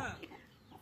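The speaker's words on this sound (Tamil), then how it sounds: "கோழி குஞ்செல்லாம் கொத்திரும்." Farmyard chicks peep in short, faint bursts near the start, with a person talking over and around them on a rural homestead during the Pongal festival.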